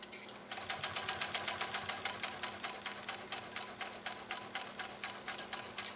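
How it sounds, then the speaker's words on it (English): A 1928 Singer 66-6 sewing machine stitches through six layers of heavy denim, a rapid, even mechanical clatter of needle strokes that starts after a brief pause and runs steadily up close. "we're going to go down and around for this final sew off on Cindy's 66-6"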